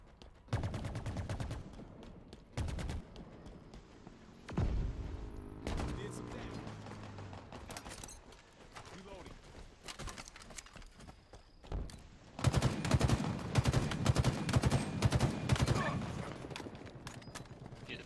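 Bursts of pistol fire in Halo Infinite ranked multiplayer, arriving in short clusters separated by quieter gaps, with a heavier volley of rapid shots near the end; voices can be heard in places.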